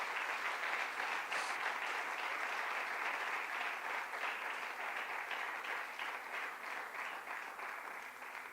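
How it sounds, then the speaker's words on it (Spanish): A church congregation claps for the King during a Spanish-language sermon, a dense, even patter of many hands that continues steadily without talk. "¿Cuántos le dan un aplauso al Rey?"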